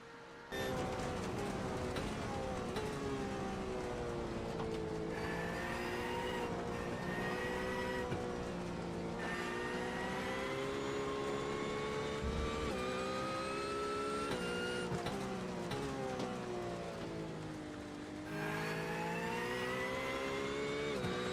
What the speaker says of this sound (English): Let's listen maybe a lap to see how Raymond Denit tackles a lap around Spa-Francorchamps here